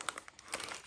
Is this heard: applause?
no